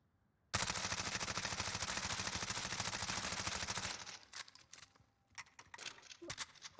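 Rapid automatic fire from an MP5 submachine gun in Call of Duty Warzone: a dense, loud burst of shots for about three seconds, then scattered clicks and faint handling sounds.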